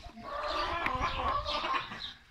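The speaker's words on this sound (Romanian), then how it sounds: "Asta e o bragma semi-micuță." A Brahma hen, a semi-bantum about the size of a red hen, clucks steadily in a coop among other broody hens, the soft throaty calls close and continuous with a brief louder note midway.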